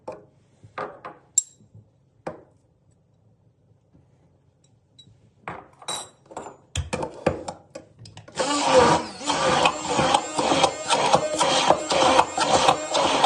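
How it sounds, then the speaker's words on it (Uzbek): A few sparse clicks and knocks, then after a short pause a loud, steady blender whirs continuously for the last several seconds, close up, mixing a mayonnaise sauce. "Bular hammasini mayonezimizni ustiga solib blender qilib olamiz."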